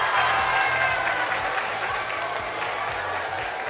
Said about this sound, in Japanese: 改めましてパクソジュンさんに大きな拍手をお願いいたします